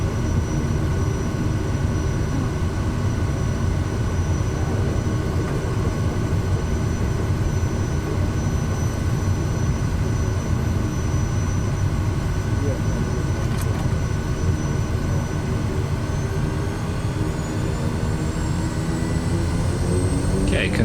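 A simulated aircraft engine in Microsoft Flight Simulator 2024 drones steadily as power comes up, a loud continuous roar with rising whining tones toward the end.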